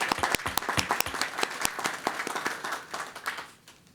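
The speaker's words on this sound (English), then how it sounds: "we can give her a hand clap this evening" An audience at a school district board of trustees meeting claps for several seconds, a dense patter of hand claps that fades out toward the end, moderately distant with no talking over it.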